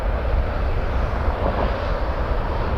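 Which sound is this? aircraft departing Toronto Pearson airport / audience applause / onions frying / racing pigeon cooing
aircraft departing Toronto Pearson airport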